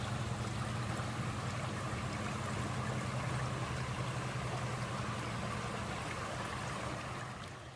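A small creek flows just off a woodland hiking trail in Rome, Maine, giving a steady, even rush of water that holds for several seconds and eases off at the end, with no voices.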